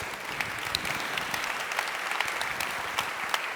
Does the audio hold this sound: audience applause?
yes